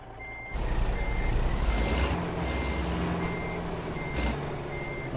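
A truck in American Truck Simulator backs up with steady, evenly spaced reversing beeps over a loud continuous diesel engine rumble, close and sustained throughout.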